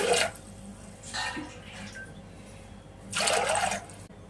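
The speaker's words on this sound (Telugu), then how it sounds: "ఇప్పుడు రెండు గ్లాసులు వాటర్ పోసుకున్నాను" Two glasses of water are poured into a cooking pot of chole masala curry in three short splashing bursts with quiet gaps between them, close by and moderately loud.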